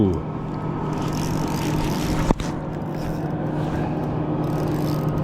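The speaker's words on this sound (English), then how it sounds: "Sorry it's so loud, bunch of boat traffic here." Motorboat traffic passes on a winter reservoir, heard from a kayak as a steady, fairly loud engine and water rumble throughout, with a brief sharp knock partway through and possible voices in the mix.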